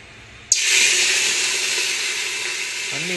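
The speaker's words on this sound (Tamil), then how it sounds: "தண்ணியை ஊற்றிக்குவோம்." Water pouring into a cooking pot during chicken biryani preparation, beginning abruptly with a splash and then running as a loud, steady hissing stream, with a brief faint clink near the end.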